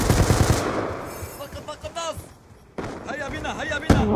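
Shotgun blasts and gunfire crack through a video game firefight, a cluster of sharp reports rising over game effects while a player talks excitedly.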